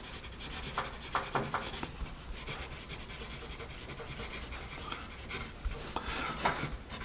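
A Dixon Style Fashion wooden pencil, slightly splintery, is being sharpened, giving close, steady rasping and rubbing with a few sharper scraping bursts over about seven seconds, no talk.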